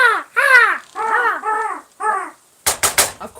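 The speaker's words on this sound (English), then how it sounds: "You guys sound just like a crow." A crow caws several times in a row, harsh and loud up close, followed by a few sharp cracking bangs at the end.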